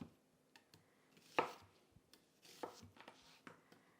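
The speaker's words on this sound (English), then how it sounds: "I did a couple slices just so y'all could see." A Ninja NeverDull knife slices food on a cutting board in a handful of soft, close, irregular cuts and taps against a quiet room.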